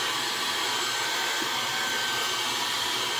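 A heat gun blows steadily on a vinyl hood scoop overlay decal on a 2024-plus Toyota Tacoma or 2025-plus 4Runner, giving a continuous, loud, even airy roar with no pauses and no talking.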